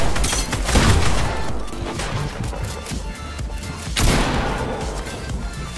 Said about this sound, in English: Bro, where am I getting shot from? I don't even know who's shooting.